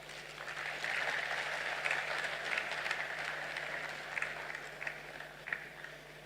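An audience applauds at a commemorative anniversary lecture honoring President John Evans Atta Mills, a sustained, fairly distant wash of clapping over a low electrical hum, with a few louder claps standing out near the end.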